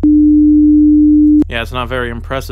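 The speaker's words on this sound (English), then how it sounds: "So now you have a sine wave of 300 Hz" A 300 Hz sine wave tone generated in audio software holds steady and loud for over a second, then cuts off as a person begins talking.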